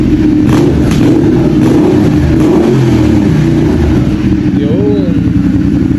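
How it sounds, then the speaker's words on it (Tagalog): Ducati Multistrada 1200 Enduro fitted with a Termignoni full exhaust, revved repeatedly in sharp, loud blips over a steady idle rumble while people talk nearby. "yan yung tunog ng ano natin,"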